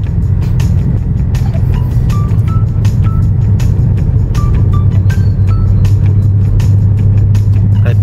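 A freshly washed car being driven along a street, with a loud, steady engine and road rumble that holds throughout, close to the microphone, no talk.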